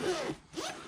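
A zipper on the upper pouch of a motorcycle sissy bar bag, fitted to a 2018 Indian Scout Bobber, is pulled in two quick close strokes with a brief pause between them, soft and crisp.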